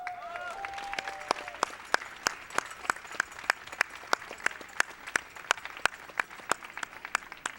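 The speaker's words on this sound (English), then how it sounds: "So be sure to give you guys yourself a round of applause." Applause at the grand finals of an esports tournament, heard as sparse, evenly spaced individual claps at moderate distance over a quiet room background.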